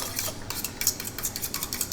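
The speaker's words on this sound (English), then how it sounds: "going to mix our beaten eggs, milk, and butter that has been melted" Beaten eggs, milk and melted butter are stirred in a bowl, with a quick run of close clinks and scrapes as a utensil strikes the sides in an uneven rhythm.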